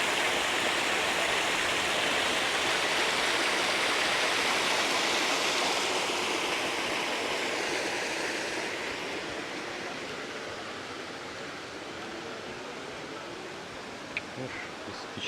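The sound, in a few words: Algar waterfalls in Spain, water flowing from a mountain cave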